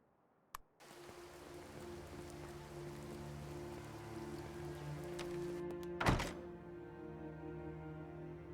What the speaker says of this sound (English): It's still fucking raining.